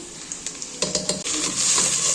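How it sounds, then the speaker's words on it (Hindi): Ginger garlic paste sautéing in a pan for kadhi, sizzling softly with a few light stirs and taps. The sizzle swells into a steady hiss partway through. "यहाँ थोड़ा सा सौटे करते हैं और फिर वेट करते हैं, जिंजर गार्लिक ऐड करते हैं।"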